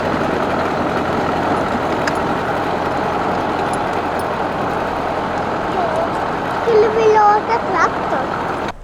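A tractor engine idles steadily close by, a continuous mechanical drone under a person speaking, with a brief higher squeak near the end.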